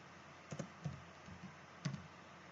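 Keys on a computer keyboard tapped while entering student data, with a few soft, sparse clicks in small clusters at close range in a quiet room.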